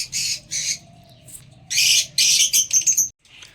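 Pet birds squawking and calling loudly in bursts at close range while being handed new egg food, with short pauses between the harsh cries.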